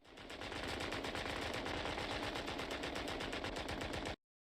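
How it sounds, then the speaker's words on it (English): A World War I Lewis machine gun fires in a film scene, one continuous rapid burst of rattling shots at even speed, loud and close, lasting about four seconds before cutting off abruptly into silence. "The Lewis was one of the few options for a World War I soldier wanting portable automatic fire."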